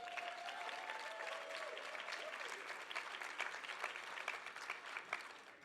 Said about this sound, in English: I'm going to pause for applause there.